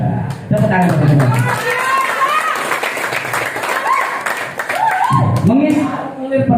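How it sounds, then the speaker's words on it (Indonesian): A seminar audience claps in a brisk, scattered burst while voices and cheering carry over the top, fairly close and lively throughout. "Tepuk tangan teman-teman."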